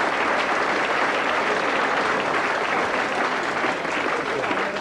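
Dense, steady applause from a nightclub audience fills the room, continuous loud clapping that holds at full strength throughout without a break.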